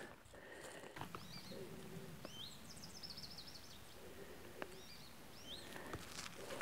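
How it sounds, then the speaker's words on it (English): Faint birdsong in open air: scattered high chirps and short warbling phrases over steady wind-like background noise, no voices. "Birds are singing, singing,"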